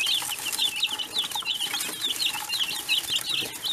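Newly hatched baby chicks peep continuously in high, rapid chirps, a busy chorus of several birds close by with no talking.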